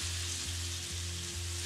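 Bacon sizzles in a hot pan with a steady, close crackle and hiss, with a low hum under it that pulses in an even rhythm, and no one talking.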